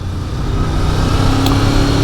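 A 1988 Honda VFR 750 F RC24 motorcycle engine running loud and close, a dense continuous mid-pitched drone with slight revving swells over two seconds.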